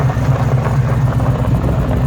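A 1966 Chevelle pro touring car with a supercharged LSA V8 and Tremec 5-speed runs at a loud, steady idle, a deep rumbling burble close by with no talk.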